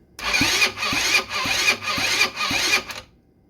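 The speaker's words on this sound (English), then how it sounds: "Let's see if it'll spin it over with spark plug in." A 150cc GY6 scooter engine cranks over with the spark plug in, a rhythmic starter whirr with about six regular compression pulses, close and loud, stopping abruptly.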